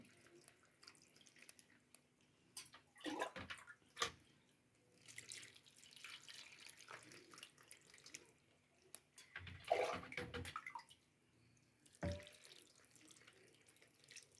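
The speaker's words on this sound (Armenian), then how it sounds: "ջուրը լցնում ենք" Water is poured into a container where salt has been stirred in, coming in several uneven splashing bursts with quiet gaps between them.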